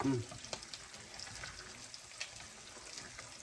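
Creamed corn bubbles and sizzles softly in a pan of milk and whipping cream, a faint, steady crackle of simmering with small pops, heard close and quiet with a brief voice at the very start.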